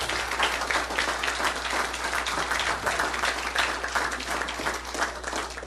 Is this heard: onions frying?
no